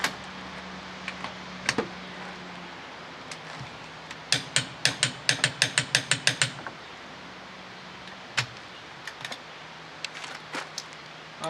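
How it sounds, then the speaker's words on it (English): A 1/2-inch drive torque wrench clicks on a wheel nut, sounding a quick run of sharp, close metallic clicks, a few scattered single clicks before and after, over a low steady background hum. "That clicking sound indicates my wheel nut is tight the way it should be."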